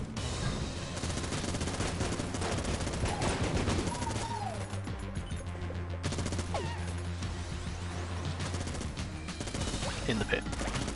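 A Vulcan Cannon fires continuously in the video game Enter the Gungeon, with rapid, dense gunfire bursts across the whole stretch and other game effects layered over it.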